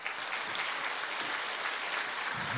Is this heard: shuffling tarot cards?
no